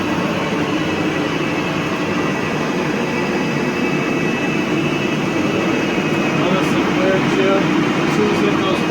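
Rotovac 360i carpet cleaner driven by a truck-mounted unit on carpet, a loud constant roar of suction and engine that holds steady throughout.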